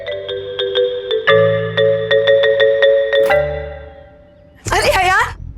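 A phone call's ringing tone plays as a bright, melodic electronic chime that repeats in quick, evenly spaced notes. Near the end, a voice briefly cuts in over it.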